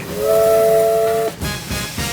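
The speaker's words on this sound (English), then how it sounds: "We are firing up the steam locomotive, and it is run on coal." A coal-fired steam locomotive in a rail yard sounds a loud, steady two-tone whistle for about a second, then sharp bursts of steam hiss follow, close and powerful.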